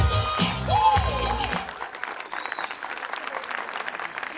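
A crowd at a school annual function applauds steadily, dense clapping that continues throughout, with a voice and cheering briefly over the start.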